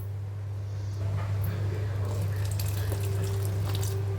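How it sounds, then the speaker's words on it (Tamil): Water pours steadily into a bowl after a brief quiet start, a continuous splashing stream over a low, constant hum. "இதில் இன்னும் கொஞ்சம் தண்ணி நிறைய ஊற்றி விட்டு"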